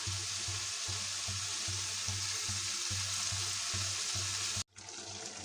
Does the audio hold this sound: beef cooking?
yes